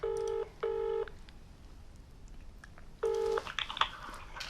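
Touch-tone telephone keys being dialed for a call to a husband from a hospital setting: two short DTMF beeps close together, a pause, then another beep followed by faint chirps, near and clear with no talk.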